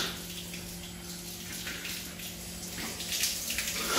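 Tap water running during ablution washing at a mosque, a steady splashing stream over hands and basin that swells slightly near the end, close and without talk.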